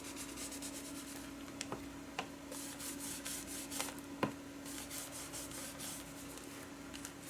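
Pumice stone scrubbed against glue residue, giving a soft, steady gritty rubbing close by with a few sharper scrapes and clicks scattered through, no talking.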